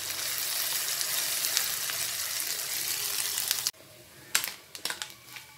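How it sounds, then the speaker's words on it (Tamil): Small ayirai fish frying in oil, a dense steady sizzle that cuts off abruptly, followed by a few scraping stirs and light clinks in the quieter pan. "மீனை எண்ணெயில் போட்டு ஒரு 3 நிமிஷம் ஆயிடுச்சு"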